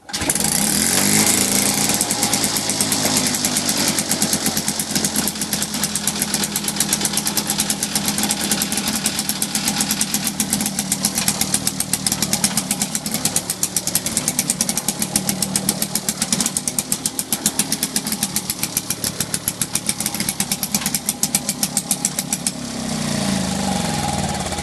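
A cold Victa two-stroke lawn mower engine catches after a pull and runs steadily for the whole stretch, a loud, close, buzzy rattle with dense rapid firing that holds an even level before easing near the end.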